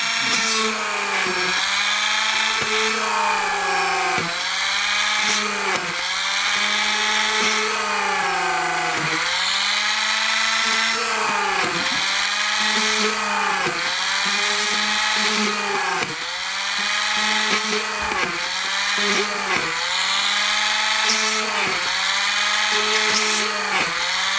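A power drill whines loudly through metal tender side-frames of a model locomotive in repeated bursts, each rising and dipping in pitch as it bites, continuing steadily for the whole stretch.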